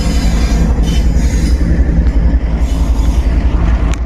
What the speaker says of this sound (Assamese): সিফালৰ পৰা ট্ৰেইন এখন আহি গ'ল চাব পাৰে